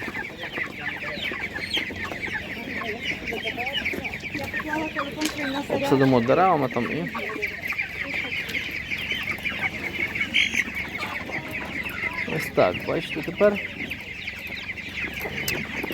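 Chickens at a Ukrainian village animal market cluck and squawk close by in a busy, irregular chatter, with a louder burst of calls midway, while someone talks over them.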